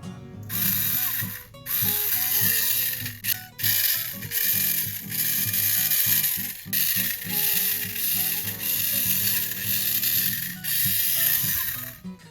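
An airsoft Real Sword SVD gearbox cycles in a rapid, rattling mechanical clatter of gears and ratchet clicks, loud and close, running continuously with a few brief pauses.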